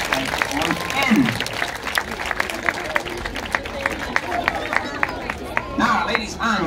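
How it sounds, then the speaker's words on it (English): A crowd at a safari park show claps and murmurs, with distinct sharp claps standing out over a steady babble of voices and a few brief shouts rising toward the end. "we'll give him a round of applause"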